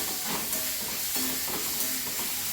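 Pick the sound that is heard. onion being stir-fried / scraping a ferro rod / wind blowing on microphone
onion being stir-fried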